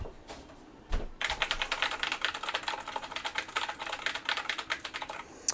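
Fast, steady typing on a Razer BlackWidow mechanical keyboard, close and crisp, with dense clacking keystrokes after a couple of isolated presses and no talking.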